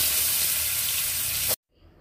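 Papaya and potato pieces frying in a pan hiss with a steady, even sizzle for about a second and a half, then cut off abruptly into near silence.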